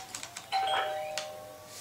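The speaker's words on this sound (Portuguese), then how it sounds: "toquei uma vez a campainha e já abriram pra mim" A doorbell rings in the Roblox game Rocitizens, a clear electronic ding-dong chime with a sustained tone, preceded by a few soft clicks, close and alone.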